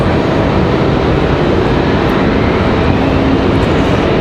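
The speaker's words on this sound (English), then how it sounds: "Got a CRJ on the move." CRJ regional jet taxiing at Raleigh-Durham airport, a continuous loud engine whine and rumble that stays even from start to finish, with no talk.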